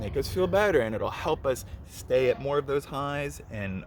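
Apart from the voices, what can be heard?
No distinct noise like a dog, phone or traffic.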